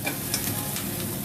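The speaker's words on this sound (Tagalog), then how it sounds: "I saute it." Garlic, onion and ginger sauté in hot oil, giving a brief, steady close sizzle with a faint scrape of stirring.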